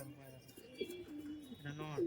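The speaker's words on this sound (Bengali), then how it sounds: "এটা নর পায়রাটা এটা মাদা পায়রা" Low, throaty giribaz pigeon coos from a male and a female repeat through the clip at moderate volume, mixed with a voice speaking nearby.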